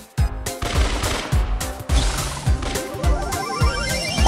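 Gunfire in the mobile video game Brawl Stars: rapid, punchy bursts of shots repeating in a quick rhythm over loud, continuous game music and effects.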